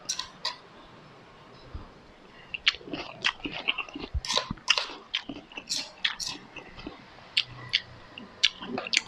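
Chewing spicy horseshoe crab egg salad, with crisp, irregular crunches and bites coming close and fairly quiet over several seconds, no talk.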